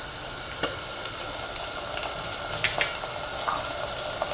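Ginger garlic paste fries in hot oil with a steady, soft sizzle, marked by a few sharp pops and spatters and light stirring ticks close by.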